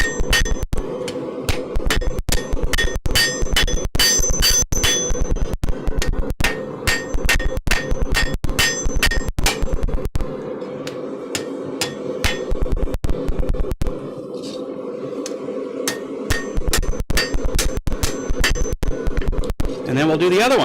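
Heavy hammer blows ring out on metal in a smithy as a blacksmith smooths the work, a steady run of sharp, loud strikes with a brief pause midway before the hammering resumes, with a voice speaking in between.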